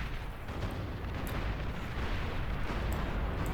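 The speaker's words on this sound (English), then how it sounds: "Snipers firing away" Sniper units firing in the Beyond All Reason strategy game, a dense, continuous rumble of booming shots and explosions layered together at steady loudness, with no talk.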